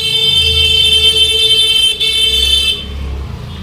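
A motorbike passing on a road and sounding its horn, a loud held horn tone lasting nearly three seconds over a low engine rumble, then cutting off as the rumble fades.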